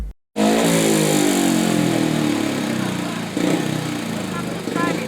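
Speedway motorcycles rev hard in the pits before a race, a loud continuous engine roar with rising and falling pitch and a brief dip partway through.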